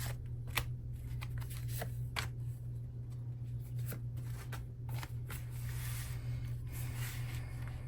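Tarot cards are shuffled and drawn, a string of soft close flicks, riffles and slaps over a low steady hum, quiet and uneven in rhythm without speech.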